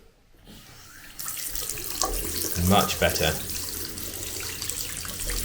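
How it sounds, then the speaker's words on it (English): Water gushing from a tap after a Vaillant EcoTec Pro 28 combi boiler fix for slow flow, starting after a moment of quiet and running strong and steady at close range, with a brief spoken comment partway through. "now we're getting so much more water through here"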